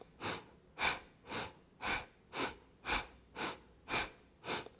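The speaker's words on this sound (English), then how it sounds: "can you try that same breath of fire?" Rapid, forceful breath-of-fire breathing during a grounding kundalini yoga practice: about nine strong rhythmic nasal huffs at a steady pace of roughly two per second, close and alone without talk.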